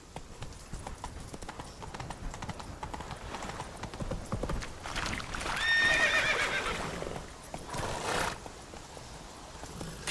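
A horse gallops with steady, close clip-clopping hoofbeats in the video game The Witcher III: Wild Hunt, rising into a loud neigh and whinny midway before the hoofbeats carry on.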